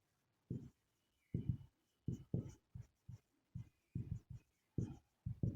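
Pen strokes while writing out a math solution come as a series of short, soft, separated scratches and taps in an otherwise quiet room, with irregular pauses between them.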